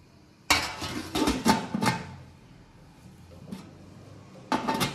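Metal clattering as a lid goes onto a steamer pot for Konkani sandhan, with a few sharp close clanks and rattles in the first two seconds, a quieter knock later and another clank at the end.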